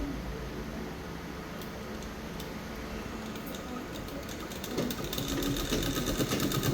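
A sewing machine fitted with an invisible zipper foot stitches a zip into a thin-fabric princess-cut blouse, running steadily at a slow pace with a soft mechanical whir and ticking that grows slightly louder near the end.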